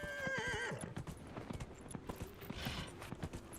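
A horse in the Dragon Age: Inquisition video game whinnies loudly, then its hooves clop in a steady trotting rhythm, close and clear with no voices.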